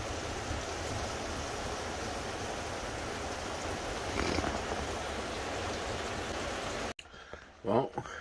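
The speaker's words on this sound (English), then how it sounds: "Still raining all day." Steady rain falls outside all day in broad, even wash, loud and continuous, cut off abruptly near the end where a few quieter sounds follow.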